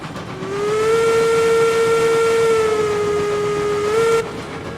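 A long, loud steam locomotive whistle from the video game RailRoads Online blows steadily for about four seconds, a rich harmonic tone over a rumbling background of a moving train.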